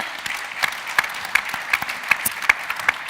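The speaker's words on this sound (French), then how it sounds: "On peut applaudir Olivier Schwinn." Audience applause at a construction-industry general assembly round table in Ambérieu, a steady wash of many hands clapping with sharper individual claps standing out, moderately close and without talk.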